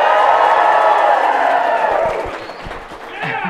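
Live studio audience at a podcast recording at UVU cheering, whooping and clapping in a dense, loud burst that gradually thins out and fades toward the end.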